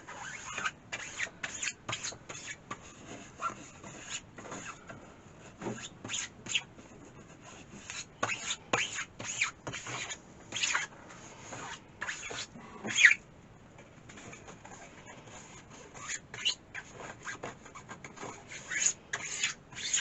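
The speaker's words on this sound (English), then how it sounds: "I'm just going to squeegee across." A squeegee pulled across a screen-printing screen, spreading paint in irregular, faint, close scraping and squeaking strokes with brief pauses between passes and no talking.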